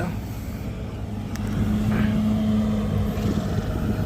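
A SANY SY135C excavator digging soil to make way for a fence: a loud, steady diesel rumble that swells partway through as the engine works harder, with a sustained droning tone on top.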